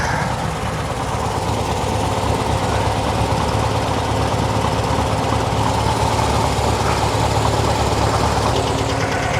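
A 1968 VW Type 3 engine fitted with dual 34 carburetors idles steadily and loudly at close range, a continuous rough rumble with a slight wavering in speed.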